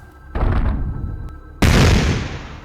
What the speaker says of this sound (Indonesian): Ledakan kecil terdengar ketika kaki makhluk itu menghantam tanah.